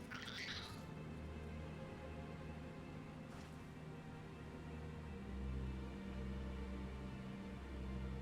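A cat meows in a Final Fantasy XIV game scene, sounding as a sustained, whiny tonal cry that stays fairly quiet beneath a constant low game ambience and music, with no one talking.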